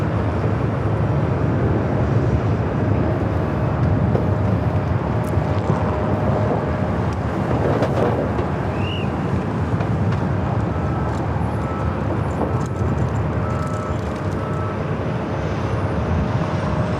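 A China Eastern airliner on its takeoff roll at LAX, heard as a steady, loud jet roar with wind buffeting the microphone throughout.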